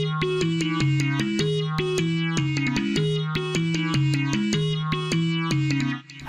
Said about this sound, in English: Started off with this serum right here with a tons of effects